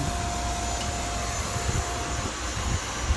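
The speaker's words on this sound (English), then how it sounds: "So here we are filling up the propane." A propane tank being filled at a pump outside a farm supply store gives a steady, loud broadband hiss and rush that holds even for about three seconds with no voices.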